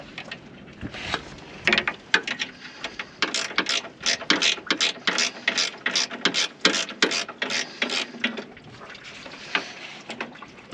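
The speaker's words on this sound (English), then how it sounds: "Those are really convenient, the ratchet wrench." A ratchet wrench clicks rapidly while turning bolts on a Chevy Colorado radiator during a radiator replacement, with repeated bursts of ratcheting strokes, close and fairly loud.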